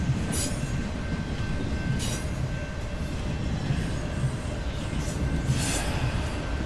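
A train sound effect runs steadily throughout, a continuous rumble of rolling wheels and carriages with brief squealing bursts high up, loud and constant with no talking.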